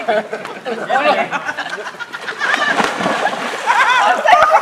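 A person splashes into the water during an outdoor camp challenge, a wet splatter and sloshing heard under excited chatter and laughter from people nearby.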